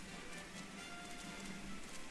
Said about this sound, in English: Pissing down rain. Really adds to the lag factor.